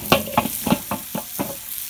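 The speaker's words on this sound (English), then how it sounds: "Still sizzling a little bit." Jacked up shrimp crackle and sizzle quietly in an Outset shrimp pan, with a string of about six short, evenly spaced bursts as the shrimp are stirred, and no voices.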